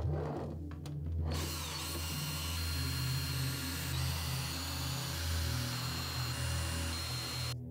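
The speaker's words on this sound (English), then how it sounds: "I just drilled them in and everything seemed to be working okay" A power drill runs continuously, driving corner pieces into a metal sheet panel: a steady close whine after a few brief taps, loud and alone.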